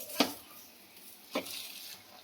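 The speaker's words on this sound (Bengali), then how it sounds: "রোল ভাজা হচ্ছে আমাদের" A laccha egg roll frying in oil gives a crisp, close sizzle, with two sharp spattering bursts over a steady hiss and no talking.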